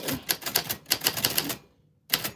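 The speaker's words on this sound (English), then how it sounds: "That is what your name sounds like on a typewriter." Typewriter keys clatter in a quick, uneven burst of sharp strikes, then a short pause before another cluster of clacks starts up; close and clear with no talking.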